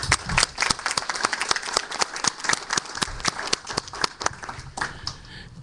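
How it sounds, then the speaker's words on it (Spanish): An audience claps in welcome for a senator at a political-electoral forum, with crisp, distinct hand claps in a steady ragged rhythm, close and fairly loud, and no voices over it. "Les pido que lo recibamos con un aplauso."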